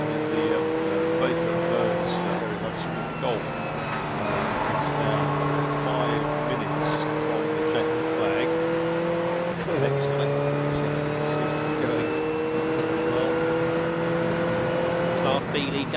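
Race cars, including a diesel Golf TDI, run in a 750 Motor Club enduro at Snetterton. Loud engines climb in pitch through the gears with repeated shifts, and a steady drone carries throughout.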